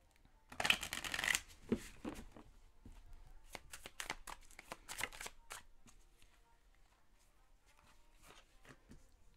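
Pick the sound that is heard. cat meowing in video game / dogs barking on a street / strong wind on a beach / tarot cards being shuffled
tarot cards being shuffled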